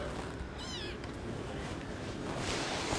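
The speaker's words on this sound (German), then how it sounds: "Das ist wirklich ein Kitten ohne Mama." A small kitten without its mother gives a clear, close meow with a wavering pitch near the start, then faint follow-up sounds over steady background hiss, with no talking.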